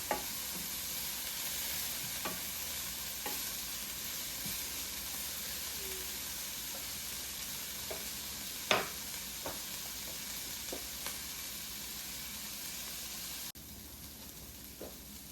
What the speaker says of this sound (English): These are finished sauteing and everything.